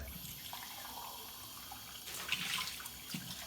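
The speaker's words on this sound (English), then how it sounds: "we'll fill this up with water" Tap water runs into a beaker, a soft steady splashing that grows louder and fuller partway through, faint and close with no voices.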